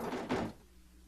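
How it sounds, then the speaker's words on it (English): A door opens in the fighting game Persona 4 Arena: a short swish-and-clunk burst near the start that fades into a quiet hum. "I brace myself and put my hand on the door."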